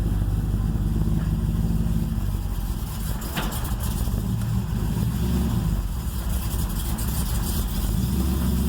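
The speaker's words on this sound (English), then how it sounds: "It's already idling much better." A cold LS-swapped Chevrolet S10 engine idles with a low, steady rumble throughout, close by, with a brief slight dip midway.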